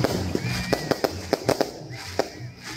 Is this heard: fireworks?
yes